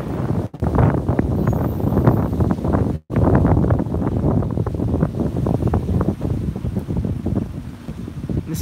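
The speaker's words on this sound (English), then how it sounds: "It's a little windy up here." Strong wind buffets the microphone at a high lookout point above a palace moat park in Tokyo, a loud continuous roar with gusty fluctuations and two brief dropouts.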